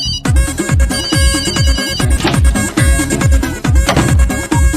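A loud, close mobile phone ringtone plays during an outgoing call in a comedy film scene, a bright melodic pattern that repeats in a steady rhythm throughout with no talking.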